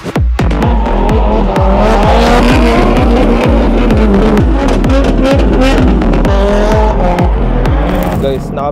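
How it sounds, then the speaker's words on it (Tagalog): Cars race up a Japanese mountain pass at a drift event, engines revving hard and tyres squealing in a loud, continuous roar with repeated gear-shift surges close by, while people talk in the background. "Excited namin, naririnig na namin yung mga kotse."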